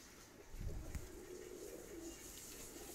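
Pigeons of fancy breeds such as Oman teddy, Salara teddy and Pakistani high flyer coo softly and low nearby, a faint steady murmur over about three seconds with no talk.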